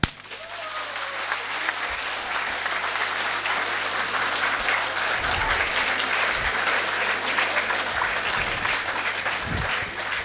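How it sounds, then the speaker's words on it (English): Audience applause in a college fest auditorium: dense, steady hand clapping from a large crowd that runs for the full ten seconds at a constant, moderately loud level. "Now put them together. Clap."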